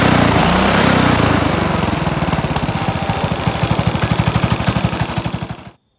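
A racing lawn mower engine fitted with a semi-automatic transmission runs loud and close, starting with a smooth high roar and then breaking into a rapid, regular popping beat before cutting off abruptly.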